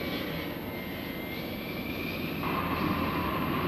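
Military aircraft launch from multiple runways, the sustained roar of jet engines steady and moderately distant, swelling a little louder toward the end, with no voices.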